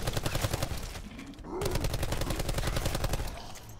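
A submachine gun fires rapid automatic bursts in the video game Black Ops, loud and close, with the rattling stream broken by one short pause.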